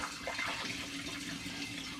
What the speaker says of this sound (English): putting the funnel back in to the demijohn and simply pouring it back straight in without a filter